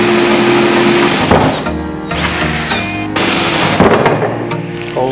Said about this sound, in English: Looks good, let's drill.